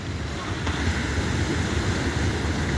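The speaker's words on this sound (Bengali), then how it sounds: "এই এইটা বড় ঢেউ" Sea waves surge and wash onto a beach in a continuous broad roar, mixed with wind buffeting the microphone.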